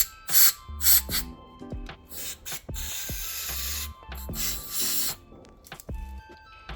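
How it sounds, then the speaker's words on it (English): Short bursts of carburetor cleaner spray hiss on and off in quick succession into the throat of a generator's carburettor, mixed with small mechanical clicks and taps close by. "Now I'm just going to spray through the throat of the carburettor"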